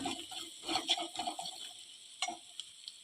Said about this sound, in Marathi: पाव चमचा हिंग घालूया पाव चमचा धनेपूर घालूया हे चांगल्या अर्धा मिनिटभर परतून घेऊया